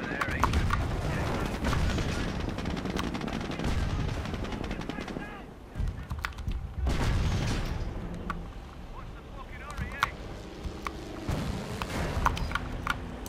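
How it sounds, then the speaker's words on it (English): Battle gunfire in the video game Company of Heroes: Opposing Fronts, a Battle of Britain scenario, with dense machine-gun bursts and heavy shots near and far, mixed with voices calling out amid the fighting. "Who the heck is firing on us?"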